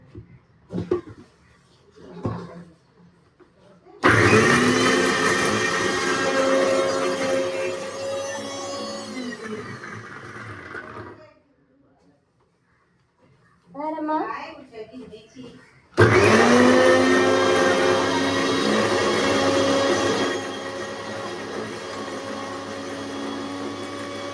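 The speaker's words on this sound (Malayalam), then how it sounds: "നമ്മൾ മിക്സിയിലിട്ട് അടിക്കാൻ പോവുകയാണ്." An electric mixer grinder blends in a home kitchen during Eid cooking, running in two loud, sustained whirring bursts separated by a pause, with faint clatter and brief voices in between.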